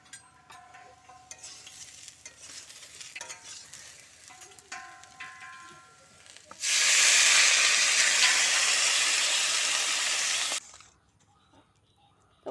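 A potato and soybean curry with slit green chilies fries quietly with stirring clinks, then water poured in brings a loud, sustained rushing sizzle that lasts several seconds before cutting off abruptly.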